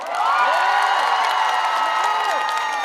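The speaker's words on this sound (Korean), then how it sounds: "박수와 함성을 보내주시면 됩니다" Crowd at the Daejeon 0 o'clock Music Festival celebration concert applauding and cheering, a loud steady wash of clapping and shouts that continues unbroken, with singing or sustained tones riding over it.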